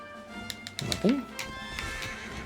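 A horse in Dragon Quest XI S neighs once in a short rising whinny near the middle, over game music and soft hoof clip-clops, with a voice talking around it.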